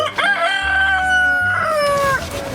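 A broody hen gives a loud, drawn-out tonal call close by, wavering in pitch for a couple of seconds with a low rumble beneath.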